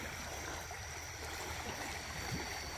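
The flooded Caçatuba river in Passira, Pernambuco rushes past in a continuous, dense wash of flowing water, steady and fairly close, with no speech.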